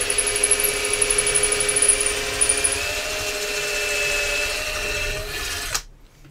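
A power drill enlarging a hole on a repair bench: a steady, fairly loud whirring whine runs for several seconds with no talk, then cuts off abruptly.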